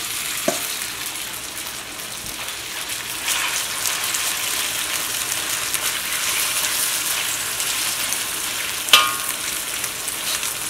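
Beef sizzles and fries steadily in a pan of hot coconut oil, with a sharp clatter as it is added, then a continuous crackling hiss that swells partway through, a brief clink near the end.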